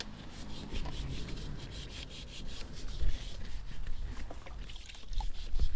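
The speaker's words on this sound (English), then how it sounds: "He's just going to work the brush back and forth on each link." A brush scrubs back and forth over the links of a motorcycle chain, producing a close, continuous gritty rubbing with steady rhythmic strokes throughout.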